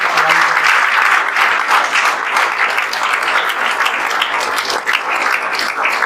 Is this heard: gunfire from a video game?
no